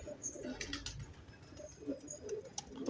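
Pigeon cooing softly in a pigeon coop, low throaty coos repeating among faint rustling and other birds' calls.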